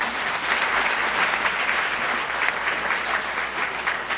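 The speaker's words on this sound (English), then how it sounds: "you can give them another round of applause, the students" Audience at a school board business meeting applauding students, a dense, loud, sustained wash of many hands clapping that stays even from start to finish.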